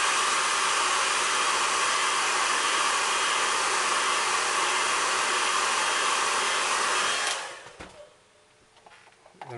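Hair dryer blowing steadily and loudly on a watercolour landscape painting for about seven seconds, then cutting off abruptly, leaving quiet room tone and a brief spoken word.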